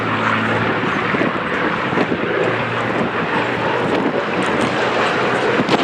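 A Gloster Gladiator biplane flying at the Duxford Flying Legends air show, its engine a steady, loud drone with wind noise that holds throughout without breaks.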